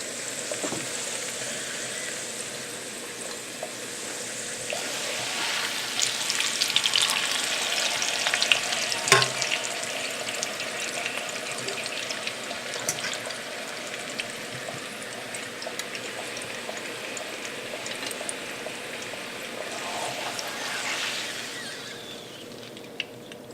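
Tortillas dipped in red sauce in a frying pan give a steady, close sizzle with soft liquid stirring and slapping, continuous for over twenty seconds with no talking.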